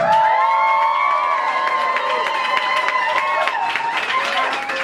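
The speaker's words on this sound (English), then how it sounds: "Everyone, please give a big round of applause to Zulfiqar Ali Bhutto." An enthusiastic crowd at an art evening cheers, whoops and claps for the artist, with high excited voices ringing over dense applause throughout.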